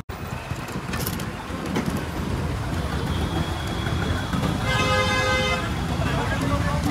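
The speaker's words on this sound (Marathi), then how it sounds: "पूर्ण ट्रॅफिक जाम." A jammed road in Moshi, Pune, with a dense, constant traffic roar and a car horn honking clearly partway through, heard close and loud throughout.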